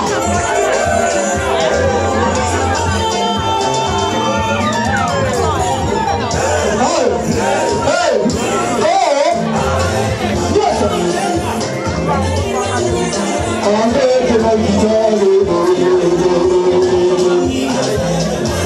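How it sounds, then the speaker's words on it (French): Wedding guests at a religious ceremony sending up shouts and cries of joy, a dense, loud crowd din of overlapping voices and ululating calls that holds throughout and swells near the end. "Poussons les cris de joie"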